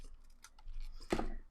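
Scissors cut paper for a journal doodle page, a faint quiet rustle followed by one crisp, close snip near the end.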